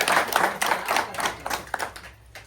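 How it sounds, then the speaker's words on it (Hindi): Audience at a Hindu religious discourse clapping on request, a dense burst of handclaps that fades out over about two seconds. "तालियां बजाओ जरा जोर से।"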